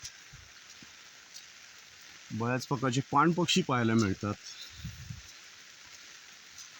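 Light rain drizzles outdoors as a steady soft hiss in the background while someone talks over it.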